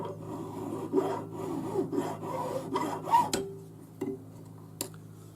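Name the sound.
filing metal bangle end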